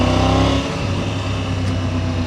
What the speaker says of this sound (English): obviously being the T-plane crank triple engine, it's got that low down torque and punch that obviously it's been designed for